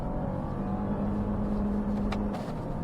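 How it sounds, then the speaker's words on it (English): A Lexus LX 600 engine revs up while parked, a loud steady low drone with a rising tonal whine held for a couple of seconds before easing off. "We will rev up again."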